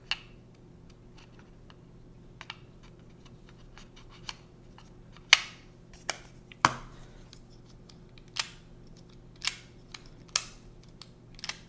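A worn AirPods case lid is opened and closed repeatedly, making a series of small, crisp, close clicks at irregular intervals over a quiet background.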